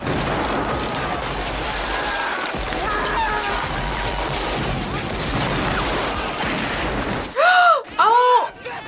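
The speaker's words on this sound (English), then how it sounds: "Oh, they're pointing the cannon down." Cannon and rifle fire from the Civil War film Glory rumble in a dense, loud battle din throughout, with overlapping booms and crackling shots, followed at the end by a couple of voices reacting.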